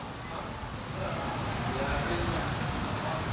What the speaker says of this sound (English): And yes, what you're hearing is the sprinklers.